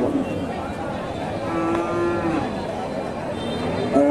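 A dairy cow lows at Hasokhali cattle market: one drawn-out, tonal moo, fairly close, over a steady bed of crowd and market noise.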